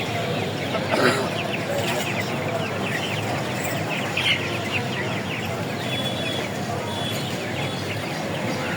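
Many chickens and ducks cluck and squawk together in a dense, continuous clamor, with people talking in the background of a crowded poultry market in Hasnabad.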